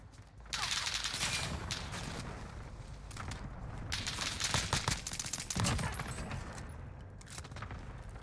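Gunfire crackles in a Warzone match, with bursts of rapid shots and sharp reports, loud and close, cutting through ongoing battle noise with no pause.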